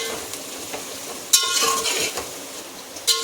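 Sliced onions with whole spices frying in hot oil for chicken khichda, a steady close sizzle broken by a few sharp clinks and scrapes of a spoon against the pot.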